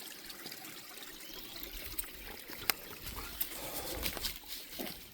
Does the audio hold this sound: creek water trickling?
yes